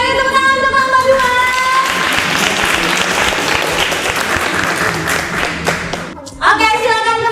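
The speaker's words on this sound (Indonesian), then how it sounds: "beri tepuk tangan untuk kelompok 2" A room full of people gives a sustained round of applause for the second group after their classroom performance, loud and dense for about six seconds before it fades and a voice speaks.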